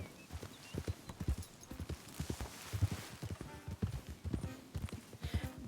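Horse hooves in Red Dead Redemption 2 clatter in a steady clip-clop rhythm throughout, close and moderately loud, with no talking over them.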